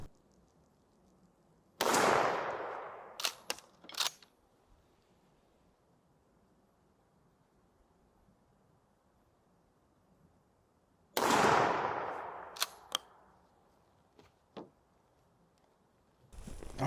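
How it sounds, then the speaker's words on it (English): Winchester SXP 20 gauge pump shotgun fired outdoors with Remington Nitro turkey and old Federal shells, aimed to check where it hits. Two loud booming shots come about nine seconds apart, each followed by sharp metallic clicks of the pump action. "going to shoot a Remington Nitro on the right and this old Federal red box on the left"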